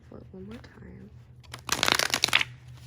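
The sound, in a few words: shuffling a tarot card deck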